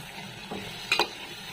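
Eggplant is stirred into masala in a pan with a soft sizzle, a couple of scraping spoon strokes standing out against steady frying hiss.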